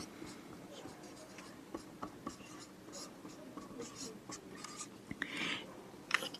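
Pen scratching on paper in short strokes and taps, moderately close and fairly quiet, with brief pauses between bursts of writing.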